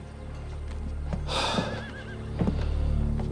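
A horse tied up on a frontier town street gives a loud, close whinny that rises and quavers for about a second, with faint hoof clops and shuffling before and after.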